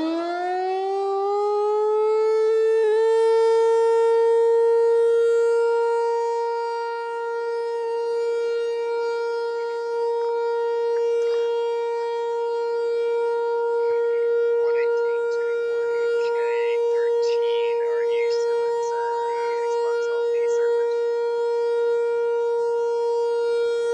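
A civil defense siren being tested in the Roblox game Greenville holds one loud, sustained wailing tone. The tone swells early, dips briefly, then continues steadily with faint clicks and game noises in the background.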